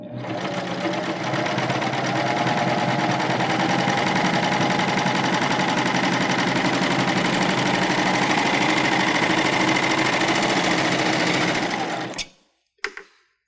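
Baby Lock Euphoria cover stitch machine sewing fabric straps through a folding attachment: a fast, steady mechanical hum and rhythmic needle chatter running continuously for about twelve seconds, then stopping abruptly with a few small clicks.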